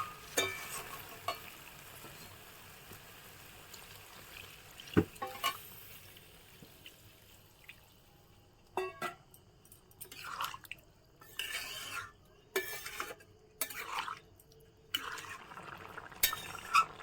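Water poured into a pan of jackfruit, potato and shrimp curry, quiet bubbling and drips followed by a series of bursts of pouring and stirring against the pan, faint and intermittent, no talking.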